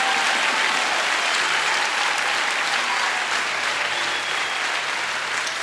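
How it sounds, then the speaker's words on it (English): A church congregation claps hands together in a dense, steady roar of applause that fills the whole clip with no pauses, loud and close, during a sermon. "Clap your hands for Jesus."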